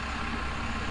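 A neighbor's truck idles outside an open window, giving a steady, continuous low engine rumble with broadband hiss for the full second, moderately distant and unbroken.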